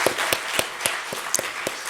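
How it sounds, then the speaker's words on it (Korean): A church congregation claps to bless the children, sparse individual claps landing at an uneven, loose rhythm in a reverberant hall, moderately loud with no talking. "우리 자녀들 좀 축복하는 마음으로 박수 한번 쳤으면 좋겠습니다"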